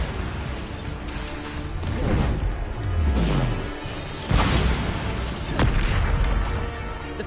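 Bombarda explosion spells from Hogwarts Legacy blast repeatedly, several loud booming bursts with crashing impacts and falling rumbles layered over dense game action and ambience.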